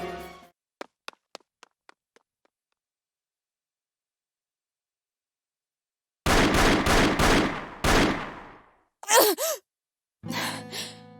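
Gunfire during a cutscene in the video game Labyrinth of Galleria: The Moon Society: a quick run of sharp, fading shots, then a silent gap, then loud bursts of blasts and crashing impacts that come one after another.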